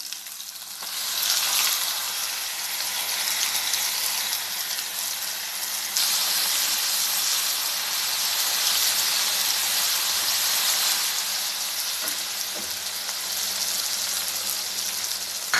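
Ground paste and tamarind paste hit hot oil with popped mustard seeds for a garlic pickle, giving a loud, continuous frying hiss that swells around the midpoint and holds steady, with occasional faint clinks of a spoon.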